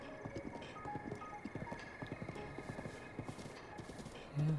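Horse hooves clop at a steady riding pace in the video game The Legend of Zelda: Breath of the Wild, with rhythmic thuds under faint background music and no talk.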